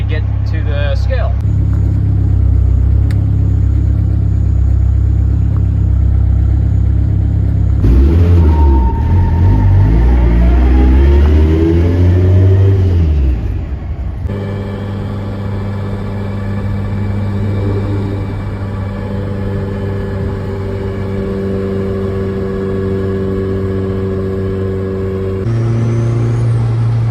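Interior drone of a Honda Civic AWD on the road in cold weather, a loud low engine hum with gear shifts and revs that rise and fall, occasional road noise in between.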